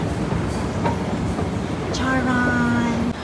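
A Singapore MRT metro train rumbles steadily nearby, a dense continuous roar with a few clunks, then a sustained tonal whine or chime sounds near the end; a voice is faintly present in the mix.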